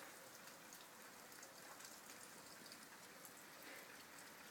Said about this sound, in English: You see just that rain really coming down.